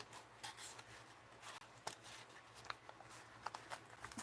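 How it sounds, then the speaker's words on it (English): Paper crumpled by hand for junk journaling, a close run of dry crinkling and rustling bursts with no talk. "And this will crumple the paper."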